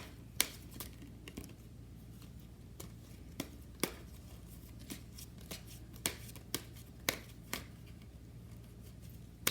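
Oracle cards being shuffled by hand nearby, quiet riffling with a string of sharp irregular snaps and taps as the deck is handled, without talking.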